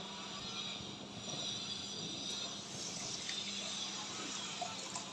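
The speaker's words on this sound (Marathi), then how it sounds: "आता ह्याच्यामध्ये मी गरम पाणी ॲड करणार आहे अर्धा ग्लास अर्धा ते पाऊन ग्लास इतकं" Hot water poured into vermicelli upma in a pan, a faint steady watery rush and hiss lasting several seconds with no voices.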